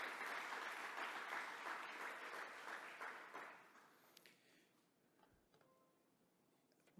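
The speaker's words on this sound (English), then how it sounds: "So big round of applause." Applause from a conference audience for Randy at a global supply chain outlook talk, a dense crowd clapping that holds steady for a few seconds, then thins and fades to scattered claps and quiet room noise.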